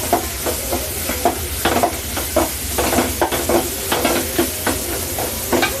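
Greens sauté in a hot pan with a loud, continuous sizzle and repeated rhythmic scraping strokes as they are stirred close by.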